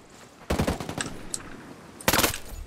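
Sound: gunfire and headshot kill in video game Ghost Recon Breakpoint

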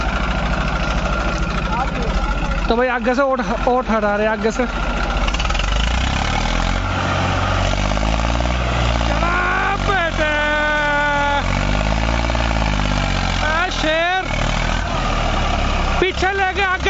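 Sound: Eicher 380 tractor engine running

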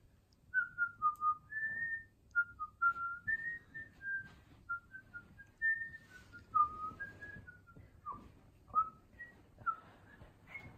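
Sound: whistling a tune

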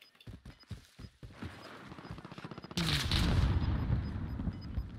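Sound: gunfire in the video game Warzone

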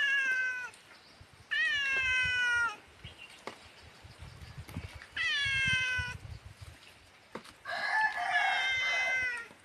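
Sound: cat meowing

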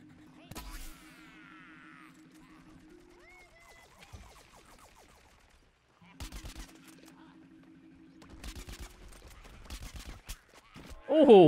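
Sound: gunshots in video game Plants vs Zombies Garden Warfare

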